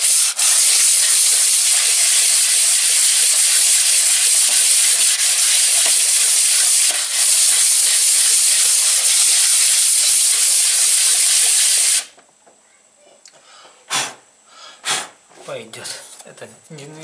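Sandpaper of 120 grit rubbing in small circles on a Mercedes W124 cylinder head, a loud, close, continuous scratchy hiss that stops abruptly partway through, followed by someone talking.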